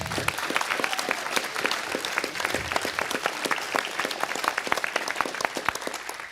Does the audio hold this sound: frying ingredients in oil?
no